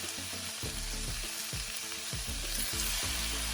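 Pork ribs sizzle loudly in a hot pan as oyster sauce goes in, with a constant bright frying hiss and rhythmic scraping of stirring underneath, and no voices.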